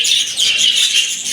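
Budgies chirp in rapid, overlapping high twitters, a busy bright chatter from a flock close by with no pauses.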